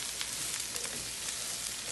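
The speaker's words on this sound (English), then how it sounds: "I'm frying my cabbage." Shredded cabbage frying in a hot pan on lowered heat for Guyanese-style fried cabbage, giving a steady, close sizzle and crackle that runs evenly through the whole stretch with no talk.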